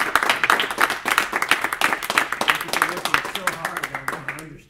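An audience at a technical paper-reading talk gives a short burst of brisk, close clapping that carries on steadily for several seconds and then fades out, with some voices mixed in beneath it.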